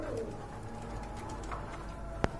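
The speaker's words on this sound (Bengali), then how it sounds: "এখন কিন্তু বর্তমানে বোম্বাই কবুতর একটু কমই দেখা যাচ্ছে" A Bombay pigeon coos softly in repeated low murmuring notes, faint and close amid quiet background noise, with one sharp click near the end.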